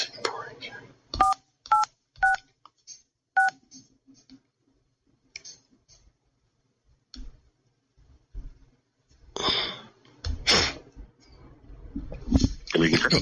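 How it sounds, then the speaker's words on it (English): Touch-tone telephone keys are dialed, a few short separate beeps close by, then clicks and quiet handling, with people talking and whispering in the background. "while I was dialing it"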